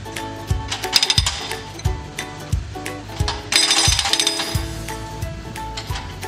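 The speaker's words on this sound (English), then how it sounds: "In the digger cabin, a man controls the digger arm and breaker." A hydraulic breaker mounted on a digger hammers a pavement, giving sharp repeated metallic impacts in an uneven rhythm with a brief burst of rapid pounding partway through, loud and close.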